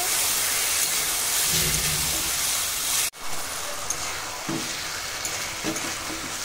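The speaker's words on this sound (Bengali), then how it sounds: "মাংস খুব ভালো করে কষিয়ে নেব।" Desi chicken pieces fry with onions in a pan, giving a steady sizzling hiss. A sharp clatter cuts in partway, then softer sizzling continues with occasional stirring scrapes and no voices.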